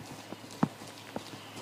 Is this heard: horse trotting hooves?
yes